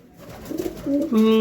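A pet pigeon for sale at a pigeon market gives a short, close coo that swells into a steady tonal call at the end of a brief moment.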